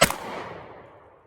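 A 20 gauge slam fire shotgun discharges once at a target outdoors, a single loud sharp blast followed by a long decaying echo rolling away.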